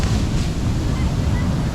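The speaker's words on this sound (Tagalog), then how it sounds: "ganda ng alon" Ocean waves breaking on a beach, a continuous loud roar of surf mixed with wind buffeting the microphone, no pauses across the short stretch.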